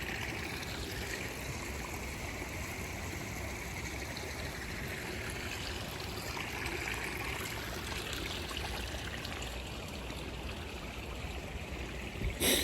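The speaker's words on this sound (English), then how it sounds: "here's where the creek starts, or where the water they pump up here, where it comes out at for the waterfalls" Steady rushing and trickling of pumped water flowing out where a garden creek begins, feeding waterfalls in a Japanese garden; a continuous, fairly loud wash with no talking.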